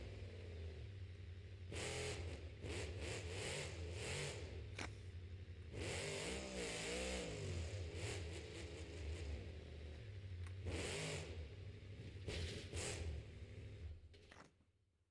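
The Uproar monster truck roars at a Monster Jam stadium show in Detroit, its engine revving and surging repeatedly over about fifteen seconds, with bursts of acceleration and a steady loud rumble amid arena noise.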